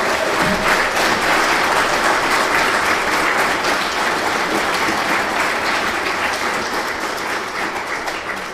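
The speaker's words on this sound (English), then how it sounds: "So can you put your hands together and give a round of applause to Aidan Dockery, Aina Nilaina, and Mark Norwood." Sustained audience applause at a school heritage programme event, a dense, steady wash of many hands clapping at full loudness that eases slightly toward the end, with no talking.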